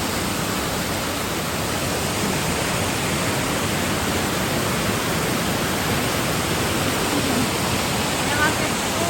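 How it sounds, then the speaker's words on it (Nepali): A waterfall roars as a broad, constant rush of falling water, loud and unbroken from start to end. "यहाँ पर पानी झरेको"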